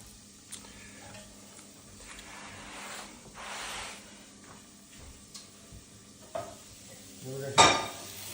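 Soft, steady sizzling of Brussels sprouts in a pan with occasional light utensil clinks and a sharper clank near the end.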